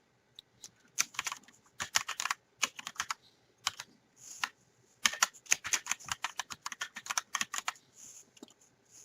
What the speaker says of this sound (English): I'm a fairly slow typer